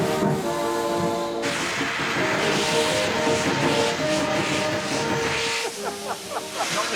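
Steady loud hissing of steam from a steam locomotive's open drain cocks as it starts off, with rumbling and clanking underneath and no talking.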